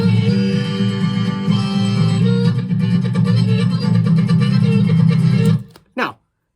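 Loud, steady reedy chords on a C harmonica held continuously for several seconds, then cutting off abruptly with one brief final burst.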